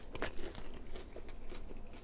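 A crisp, crunchy bite into a cheesy jalapeno popper snaps close up near the start, followed by softer chewing and faint scraping noises.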